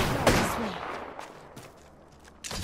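Gunfire in the Apex Legends battle royale game, with a burst of shots near the start, scattered further reports through the middle and a loud burst again at the end.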